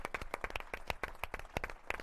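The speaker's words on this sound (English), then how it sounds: "another round of applause for that fantastic group" At a telecom connectivity forum, a small audience gives quiet, rapid clapping for a panel group, the individual hand claps distinct and fairly close.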